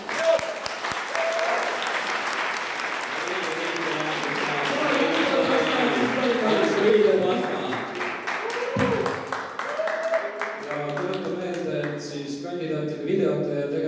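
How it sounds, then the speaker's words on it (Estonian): Loud, sustained applause from a school audience for the student council presidential candidates after a debate, steady clapping filling the room for about fourteen seconds with voices mixed in. "paluks kõigile kandidaatidele üks suur aplaus"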